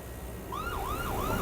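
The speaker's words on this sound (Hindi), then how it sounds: "ले जी अब सायरन चला देते हैं" An ambulance siren starts up and sweeps up and down in a steady rising-falling pattern, loud and close over a low engine rumble.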